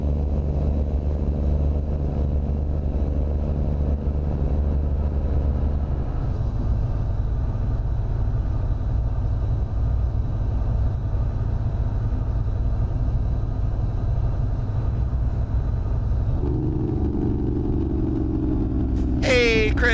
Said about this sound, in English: It sounds like that might have been a specialty truck,